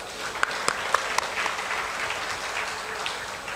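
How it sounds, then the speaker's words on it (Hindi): An audience at a religious satsang clapping with hands raised, a dense, steady burst of applause from a large crowd, with a few sharper claps near the start. "ऊपर ऊपर ताली बजा दो।"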